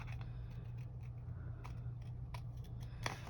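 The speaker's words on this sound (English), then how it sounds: "let me try my small scissors and see if I have any better control with these guys" Small scissors snip paper envelope flaps in a few quiet, separate crisp cuts over a low steady hum.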